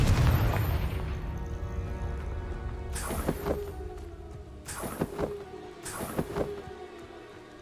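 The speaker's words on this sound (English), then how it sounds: "Expelliarmus. Stupefy. Confringo." In the video game Hogwarts Legacy, a Confringo spell sets off a series of explosions: three sharp, fairly faint blasts a couple of seconds apart, each with a short crackling tail, after a low rumbling start.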